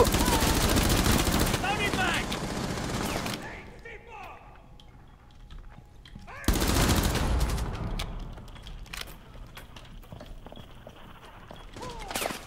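Gunfire in the shooter Rainbow Six Siege: two long, loud bursts of rapid automatic fire separated by a quieter stretch, then scattered shots.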